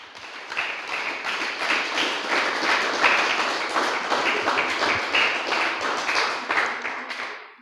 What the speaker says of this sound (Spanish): Denle un aplauso fuerte al Señor, aleluya.